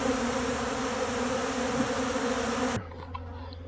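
Honey bees swarm at a hive during a drought, a dense, steady droning buzz close by that cuts off abruptly near the end, leaving a quieter low hum.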